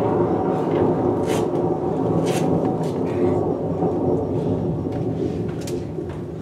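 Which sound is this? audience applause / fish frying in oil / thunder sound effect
thunder sound effect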